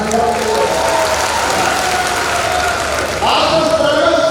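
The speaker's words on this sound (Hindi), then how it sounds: "प्रधानमंत्री जी के लिए एक बार ताली बजाओ" An audience at a welcoming event applauds a call for the Prime Minister, producing a steady wash of clapping throughout with a voice briefly rising over it near the end.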